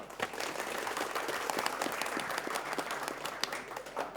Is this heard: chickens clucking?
no